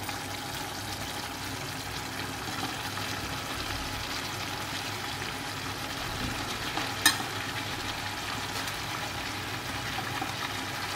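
Boiled cabbage stirred into spice masala in a pan, giving a steady soft frying sizzle with light scraping from stirring throughout, plus one brief clink, no voices.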